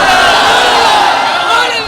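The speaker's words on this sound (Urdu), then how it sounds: "حسین دے نعرے مار جی" A large crowd at a religious gathering loudly chants slogans in praise of Hussain, a dense roaring mass of voices shouting together, close and sustained throughout.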